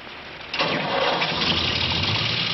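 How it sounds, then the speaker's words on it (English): An old tractor engine cranks and catches, a sudden rush of rough mid-range engine noise that settles into a steady running rumble. "is that old tractor you drove in the Pennzoil commercial still running?"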